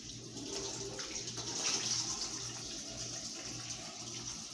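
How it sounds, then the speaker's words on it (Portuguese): Tap water runs steadily over peeled onion and garlic being rinsed in a kitchen sink, a continuous close splashing stream with no voices. "Então vamos enxaguar a cebola e o alho"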